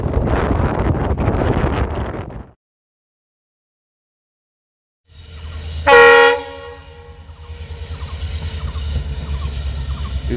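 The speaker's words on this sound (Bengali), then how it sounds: "একটা লোকাল ট্রেন আসতে দেখে সেটাকেও ক্যামেরাবন্দি করে নিলাম।" A local train comes into a station near New Mal Junction among tea gardens. Wind buffets the microphone, there is a sudden gap of near silence, then a loud horn blast sounds over a low rolling rumble of the train.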